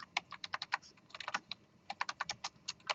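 Computer keyboard typing in a classroom lecture setting: quick, irregular bursts of crisp key clicks with short pauses between runs, fairly close and on their own, with no voices.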